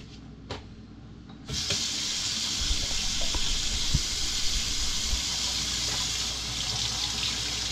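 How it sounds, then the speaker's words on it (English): Tap water runs steadily over a large rice paper sheet for smoked yellowtail spring rolls, a continuous close hiss and splash that starts abruptly after a brief click and carries on without pause. "you take a big rice paper and you run it under water,"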